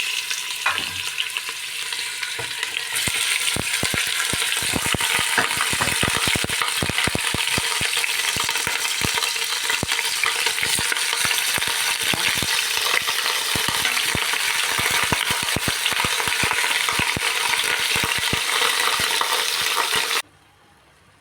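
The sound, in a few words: chicken being added and frying in a pot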